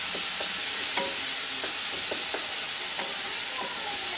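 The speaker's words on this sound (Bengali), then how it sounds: "এখন আমি জল দিয়ে দেবো এর মধ্যে।" Oil in a pan hisses loudly and steadily for a Bengali bele fish curry, a constant sizzle with faint scraping stirs and small taps throughout and no talking.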